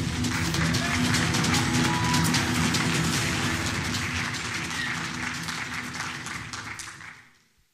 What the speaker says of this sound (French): Je vous demande un tonnerre d'applaudissements pour Alan Spanu